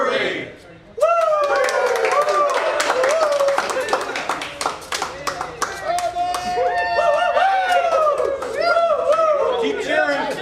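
Crowd at a brewery ribbon cutting clapping and cheering after a brief quiet moment: dense, sustained applause with whoops and chatter continuing for about ten seconds, close and lively.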